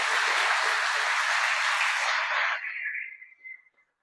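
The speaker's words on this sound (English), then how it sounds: "you all deserve a great round of applause" Hearty round of applause from an annual meeting audience for board members and staff, dense sustained clapping that thins and fades out over the last second or so.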